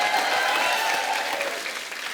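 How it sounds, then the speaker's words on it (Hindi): A studio audience at a comedy talk show breaks into loud, dense applause for a guest's entrance, many hands clapping steadily and evenly before fading slightly. "जोरदार ताली"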